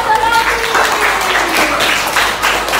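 A group of children in a sixth-grade classroom claps hands together in a loose burst of applause, loud and close, with chatter mixed in.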